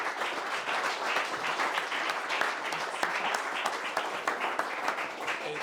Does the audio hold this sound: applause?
yes